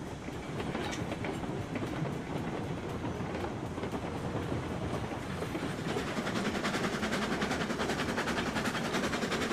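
A locomotive train running in the video game RailRoads Online, a dense continuous rumble with rhythmic clickety-clack of wheels on rails, steady and close throughout with no talk.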